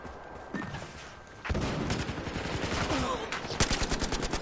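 Rapid gunfire in the Battlefield Hardline video game, with dense repeated shots and a loud burst of automatic fire partway through, close and sharp with no speech over it.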